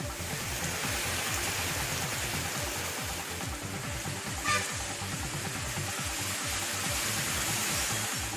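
Heavy rain pours down over Tamil Nadu towns during a downpour lasting more than two hours, a steady, dense hiss of falling water holding evenly for the whole stretch with no voices.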